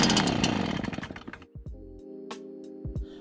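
A gas leaf blower engine is pulled over on a first start, revving with a rough buzzing roar that quickly sputters and dies, followed by a few short coughs and clicks.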